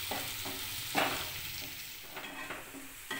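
A spice paste with ground peanut powder roasts in a pan. A soft, steady frying sizzle runs throughout, broken by several sharp scraping stirs of a spoon against the pan, close and fairly quiet, with no talk.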